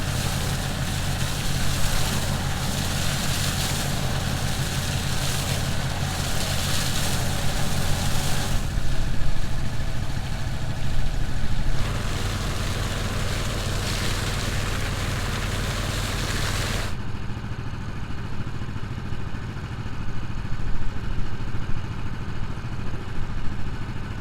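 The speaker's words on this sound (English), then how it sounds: "to compact the wet ground, I used the tractor and it was just hooked up to the field cultivator" Tractor pulling a field cultivator back and forth to compact wet, saturated ground, its engine a steady low drone that holds throughout with small shifts in tone and no talking.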